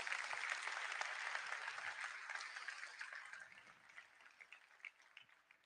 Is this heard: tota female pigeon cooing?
no